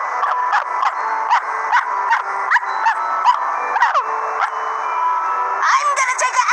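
Dog barking in a video game, a rapid run of short, regular barks and yips over a steady game backdrop, closing with a louder, brighter burst of yelping.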